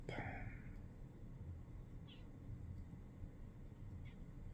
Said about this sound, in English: She's down here meowing.